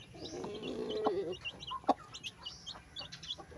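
Chickens clucking and squawking close by in a coop, with brief higher chirps from a new batch of chicks scattered through the short stretch, at feeding time.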